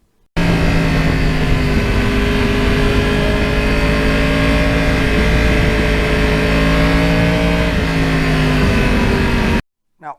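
A Yamaha R1 crossplane motorcycle engine roars loud and close, holding a steady, rich rev for about nine seconds with a slight rise and fall in pitch before cutting off abruptly.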